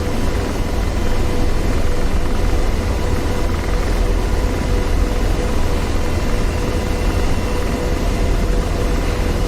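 Apache AH-64D helicopter in DCS World flying a cruise profile, heard as a steady, loud, dense rotor and turbine roar that stays constant with no pauses and no voices.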